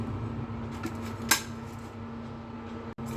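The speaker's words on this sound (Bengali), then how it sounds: "এবার আমি কাঠিটা দিয়ে নাড়াচাড়া করে দিচ্ছি মশলাটা ঠিকমতো মিললো কিনা।" A wooden stick stirs ginger, chili, garlic, garam masala and salt together in a cooking pot, giving a soft continuous scraping over a steady background hum, with one sharper knock against the pot partway through.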